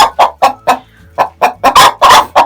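Amrox hens of a meat-and-egg breed cluck loudly and close by while searching for a nest to lay in, a rhythmic series of about ten sharp clucks with a brief pause near the middle.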